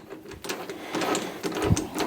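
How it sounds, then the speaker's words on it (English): Metal lathe in a blacksmith's workshop turning a forged blank to tidy its edge, an irregular run of scraping, rattling machining noise with a few sharp clanks, fairly close and with no talking. "I'll just put it in the lathe and tidy the edge up."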